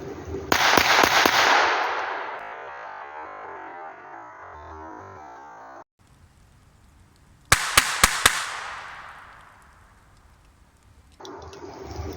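Two bursts of three sharp shots each from a Zoraki 914 pistol fired at 7 metres, loud and close, with reverberating echoes fading after each volley.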